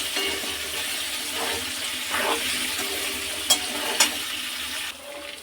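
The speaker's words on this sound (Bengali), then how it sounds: "গাজর, কুমড়ো, আলুগুলো একটু ভেজে নেব" Carrots, pumpkin and potatoes fry in a pan, a soft continuous sizzle with a few stirring scrapes and two sharp clinks, before the sound drops off near the end.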